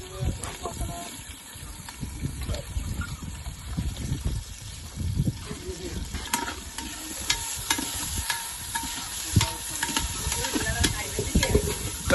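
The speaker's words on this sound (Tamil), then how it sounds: "அதை சேர்த்து அப்படியே பச்சை மிளகா போட்டா அது கூட நல்லா வதங்கிடும்" Green chilies and onion frying in a pan for a mutton curry, stirred continuously with a spoon; steady sizzling hiss with repeated scraping and clatter throughout, while people talk over it.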